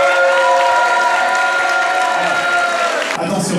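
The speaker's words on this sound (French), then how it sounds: "vous commencez à applaudir et on peut les encourager tout de suite" A TV studio audience on a France 2 set claps steadily in dense, sustained applause, with steady tonal music or voices running over it, until the sound drops off abruptly near the end.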